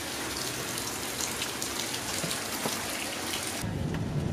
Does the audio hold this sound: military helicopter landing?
no